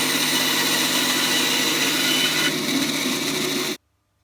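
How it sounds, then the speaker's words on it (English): A bandsaw cuts through a mound of glued-together plastic card on a wooden dowel, giving a loud, steady broadband whine that runs on evenly and then stops abruptly, with no talk over it. "Cut it off on the bandsaw"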